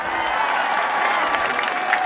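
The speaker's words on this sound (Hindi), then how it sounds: "भरपूर तालियां।" A rally crowd in Mianwali applauds and cheers in a continuous, dense roar of clapping, loud and sustained without a break.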